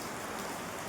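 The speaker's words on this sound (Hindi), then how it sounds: "इतनी बारिश हो रही है।" Steady broadband hiss of heavy rain falling, continuous and even for under a second, with no voices.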